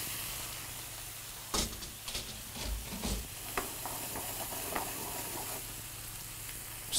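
White wine poured into a frying pan of sizzling ouananiche, a steady loud sizzle and hiss with stirring scrapes and small bursts as the liquid hits the hot pan.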